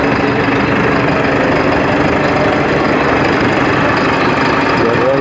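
Loud, steady idle of a modified tractor engine fitted with a custom exhaust, heard at the Konya agricultural show, a continuous low rumble with dense mechanical chatter and no break.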